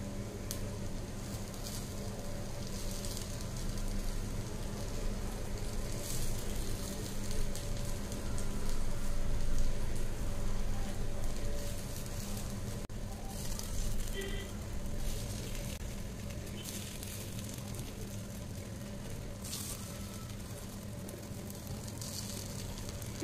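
White sorghum paniyaram sizzle steadily in a pan, a continuous crackling fry that runs the whole length at moderate loudness while someone speaks in Tamil over it.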